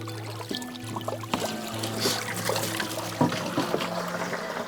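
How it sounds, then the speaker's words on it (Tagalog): Water trickles and pours steadily into a container at a water-fetching station, splashing and gurgling, with a low mechanical hum running underneath. "Dito nag-iigib ng tubig si Tatay Rusibal."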